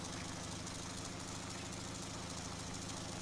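A motorcycle with a sidecar idles steadily in a World War II spy video game: a continuous low, rumbling mid-pitched engine putter with even vibration, fairly loud and unbroken, with no talking.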